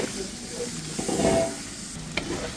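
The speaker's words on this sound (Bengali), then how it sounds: "এখন জলটা দিয়ে মশলাটা কষিয়ে নিচ্ছি" Spice paste with chili powder, coriander, cumin, salt and green chilies sizzling in a pan after water is added, a brief close hiss and bubbling with a couple of stirring scrapes.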